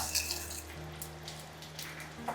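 Chili, urad dal, mustard seeds and raw rice spluttering in hot coconut oil in a village kitchen, a faint, steady sizzle with scattered small pops.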